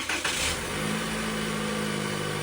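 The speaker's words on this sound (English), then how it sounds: "The vehicle will respond by flashing its lights and then starting." A Toyota Corolla started by remote start: a brief crank, then a steady running idle nearby with a constant low hum and no voices.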